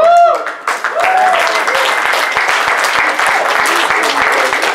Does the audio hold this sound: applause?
yes